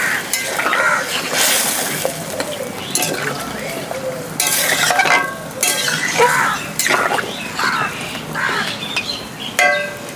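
Mutton head thin curry bubbling in a pot just after hot water is poured in, with loud bursts of sizzling and steam, spoon scraping and clinking, and short busy peaks throughout.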